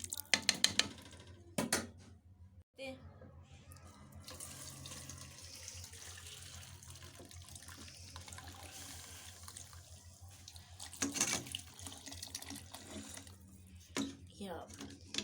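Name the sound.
straining desi chicken yakhni broth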